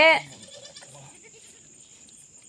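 A cow in labour, struggling to give birth to a calf, lets out one short, loud, close bellow, followed by a quiet, fading background.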